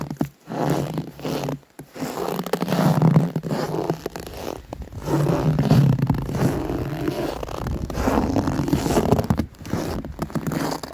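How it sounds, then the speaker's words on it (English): Footsteps crunch through more than a foot of snow on a wooden forest bridge in deep cold around -38F, close crisp crunching and scraping steps in an uneven rhythm with brief pauses between them. "This is going to be very amplified walking across this wooden bridge. It's buried under over a foot of snow."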